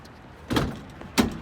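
A camper van's rear door swings shut on its hinges with two soft, close thuds, the second one sharper, in an otherwise quiet setting.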